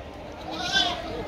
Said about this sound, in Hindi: भाई यहाँ पे एक बकरा है भाई, मेवाती और अजमेर में क्रॉस में